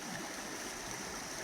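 Creek water flowing steadily along the outside bend of Sailors Creek near Daylesford, a continuous broadband rushing and trickling wash that stays even and close throughout, with no voices.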